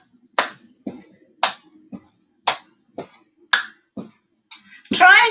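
Sharp hand claps beneath a raised leg during a warm-up for a strength class, about seven evenly spaced crisp claps with short quiet gaps, close and clear, ending in a louder burst of noise.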